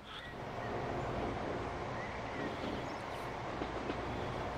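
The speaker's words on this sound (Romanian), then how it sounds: "Tren frumos aici, cu două etaje." A double-decker passenger train rolls past on the rails with a steady, broad rumble. The sound is fairly loud and continuous and holds at a near-constant level throughout.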